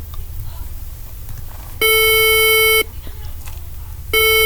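The Swedish emergency alert system alarm sounds as two loud, harsh buzzing tones, one about a second long and another starting near the end, separated by a quieter rumbling background.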